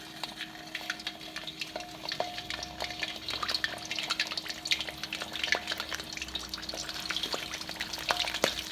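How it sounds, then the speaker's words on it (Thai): Two small mackerel fry in hot oil in a pan, a dense continuous sizzle with frequent sharp pops and splatters throughout, close and fairly loud, no talk. "ว้ยระวังมันแตก ปิดฝาไว้ก่อนดีกว่า"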